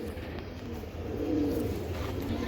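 Racer pigeon from a BRPFC club loft, cooing softly in a low, murmuring phrase that swells midway, faint against steady background noise, with nobody speaking.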